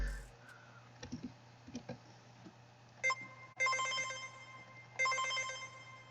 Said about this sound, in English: It's kind of like what is called synth phone prank one-shot, and so it kind of has that digital sound to it.